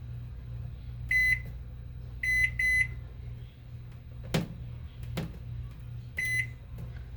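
Short electronic beeps sound in small groups, one or two at a time with pauses between, alongside a low appliance hum and a couple of clunks.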